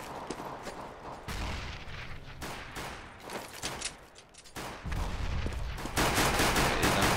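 Gunfire in Counter-Strike on de_dust2 during a match, a string of sharp shots and bursts spread across the stretch, loud and close with game ambience between them and no talk.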